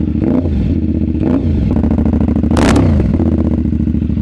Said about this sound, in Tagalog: maganda yung binibigay niyang sound, buong buo, dahil naka 270 degrees crank itong motor na to